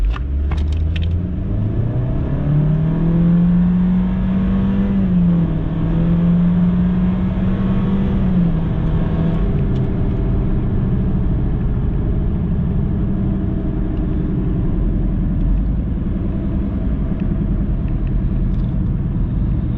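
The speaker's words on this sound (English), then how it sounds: "like a wheel bearing noise to it when you're driving" A 2016 Honda Civic 1.5 Turbo with very high mileage and a suspected wheel bearing or axle fault drives along, giving a steady loud road rumble and engine drone with a rising and falling hum.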